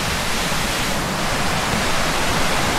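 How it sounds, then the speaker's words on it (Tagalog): Waterfalls at Twin Falls in Kalayaan, Laguna, a steady broadband roar of falling water, close and loud, unchanging throughout with no voices. "Grabe, daming falls dito."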